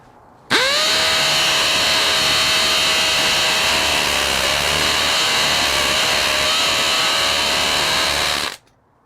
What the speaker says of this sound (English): this drill can handle speed 3, drilling concrete